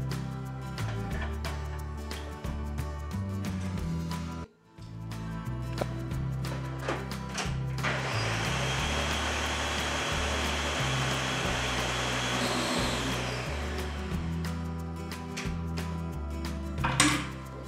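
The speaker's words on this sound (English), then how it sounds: "transfer this into the blender." A blender whirs in steady mechanical bursts blending tomatoes and spices, pauses briefly, then runs on at full speed with a dense, grinding roar before cutting out.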